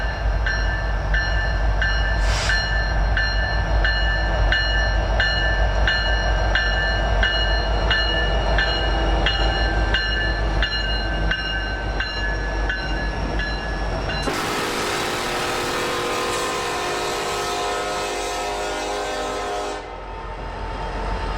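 A Norfolk Southern freight train led by an ET44AC locomotive passes nearby, wheels clacking in a steady rhythm before a loud, sustained horn blast sounds and then cuts off.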